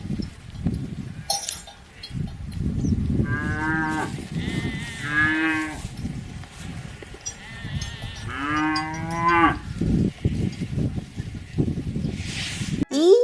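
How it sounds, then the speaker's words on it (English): Cattle mooing on a farm, several drawn-out, tonal moos of varying pitch heard close and loud over a steady low rumble of background noise. "C-O-W,"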